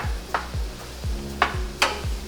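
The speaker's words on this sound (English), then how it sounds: "we're just going to give everything a nice mix again" A spoon stirs an eggplant and tomato mixture in a pan for Persian mirza ghassemi, giving several soft scraping strokes with a few sharper knocks against the pan over a low sizzle.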